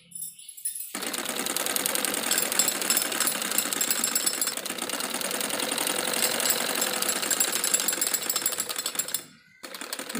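A sewing machine stitching salwar seams, a loud, continuous, fast mechanical rattle running almost unbroken after a quiet start, briefly pausing near the end before resuming.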